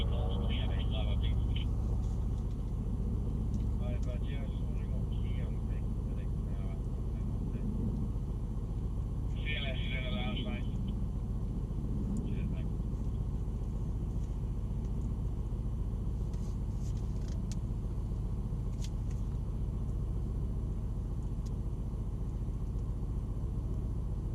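Car accelerating hard with wheel spin, a steady engine rumble and road noise running throughout, with brief higher-pitched tyre-squeal bursts early on and again near the middle while a voice talks over it.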